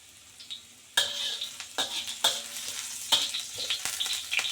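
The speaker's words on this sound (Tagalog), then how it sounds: "lagay tayo ng ginger and garlic." Ginger and garlic hit hot oil with a sudden loud sizzle after a quiet moment, then keep crackling close up while being stirred in several bursts, with no speech.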